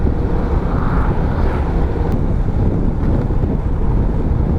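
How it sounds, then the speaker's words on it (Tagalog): Strong wind buffets the microphone at a scenic viewpoint in Gabaldon, producing a loud, continuous rumbling roar that never lets up, with no other sound rising above it. "Lakas nga lang ng hangin"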